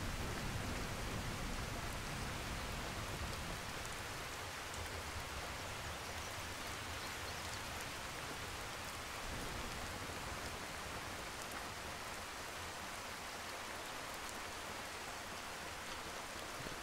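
Heavy rain in a video game pours steadily, a constant dense hiss of drops on surfaces with no voices or breaks throughout.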